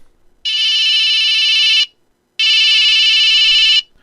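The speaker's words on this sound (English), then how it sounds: "Bruce grabs the cell phone and sees it was Mandy" A cell phone rings with two long, loud electronic tones, each lasting more than a second, separated by a short silent pause.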